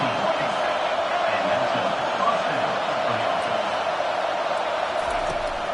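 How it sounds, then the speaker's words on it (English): Stadium crowd in the College Football 25 video game during a UCLA game, a dense, steady roar of noise building loud around the defense, with no clear breaks. "It is getting loud as this crowd tries to help its defense"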